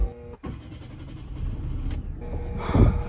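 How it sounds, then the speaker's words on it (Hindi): A car engine cranks and catches on a cold day, the starter churning before the motor rises into a steady idle with a louder burst near the end, heard close by with no talk over it. "अभी गाड़ी वगैरह स्टार्ट करते हैं"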